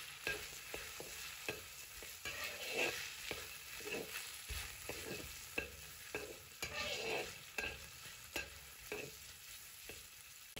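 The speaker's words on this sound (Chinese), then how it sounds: "把五花肉煸炒至微微泛黄，这时我们把刚才准备好的配料呢，全部放进来，煸炒出香味" Pork belly and aromatics stir-fried in a wok for a cabbage dish: a steady close sizzle broken by repeated scraping stirs and clatters of the spatula, alone with no voices.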